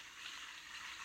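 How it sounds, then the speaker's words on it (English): Cauliflower sizzling in a dry, very hot pan with no oil or butter, a soft, faint, steady hiss of moisture cooking off, heard alone. "The sizzle."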